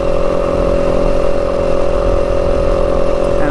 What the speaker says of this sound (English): Bike's not working hard, it's just lugging low RPM.